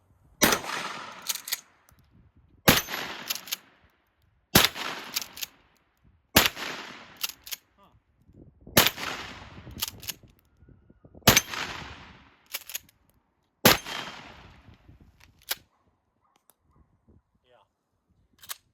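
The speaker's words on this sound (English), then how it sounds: "we'll just shoot some more of these 2 liters here" Mossberg 590-A1 12 gauge pump shotgun fired at 2-liter bottles outdoors: about eight sharp, loud blasts spaced a couple of seconds apart, each trailing off, with pump-action clacks between them.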